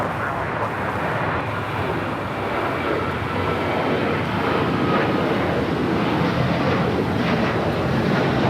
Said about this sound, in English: Heading to Houston, United Airlines flight 1591, a 737-900ER.